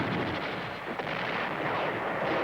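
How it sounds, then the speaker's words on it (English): Incoming artillery fire pounds the Khe Sanh garrison during the Vietnam War, heard as a dense, continuous rumble of distant blasts with no clear pauses between impacts. "The incoming artillery fire,"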